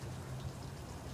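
Steady rain falls on a June evening in Troutdale, a soft, even hiss of drops with a low rumble beneath, faint and continuous, with no voices.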